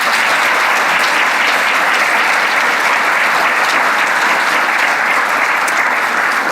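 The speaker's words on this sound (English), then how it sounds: "Can we get another round of applause, please?" A keynote audience gives loud, continuous applause that holds steady throughout, a dense wash of clapping with no talk over it.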